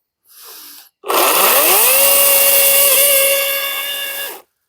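A Greenworks 80-volt cordless chainsaw with a previously sharpened Oregon chain spins up after a short burst and cuts steadily, its loud whining motor holding a high pitch for about three seconds before stopping abruptly.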